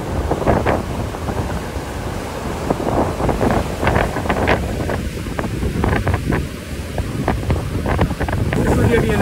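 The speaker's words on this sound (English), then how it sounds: "This will give you an idea of the shore break." Big ocean waves break on the shore at Delray in strong wind, heavy wind buffeting the microphone over repeated crashing surf, with a voice talking faintly at times.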